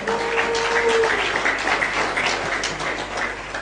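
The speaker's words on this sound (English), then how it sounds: "Hold your applause." Audience applause in a hall during a talk about a membership organisation, a dense continuous patter of many hands, fairly loud and even throughout, with a brief tone near the start.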